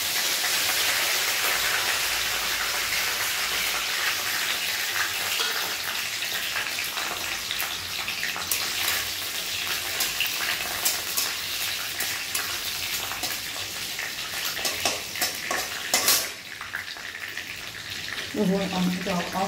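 Curry leaves sizzle and crackle as they fry in hot oil in a pan with chillies for sambar, a loud steady hiss close by with sharper pops near the end.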